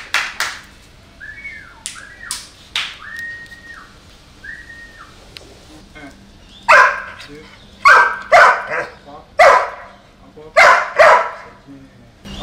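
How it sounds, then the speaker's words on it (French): A dog gives a series of sharp, loud barks in regular bursts near the end, after earlier whistle-like tones and scattered short sounds, with the sharp bursts close and prominent. "Elle a réussi à dompter ce chien grâce à Henri, un éducateur canin."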